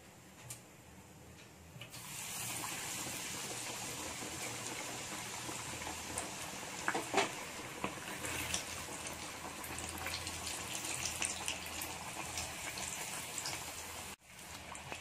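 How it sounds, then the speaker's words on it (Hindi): Cheetos-coated chicken deep frying in hot oil, a dense continuous bubbling crackle with scattered pops, steady and moderately loud before cutting off near the end. "अब मैं इसको डीप फ्राई करूंगी"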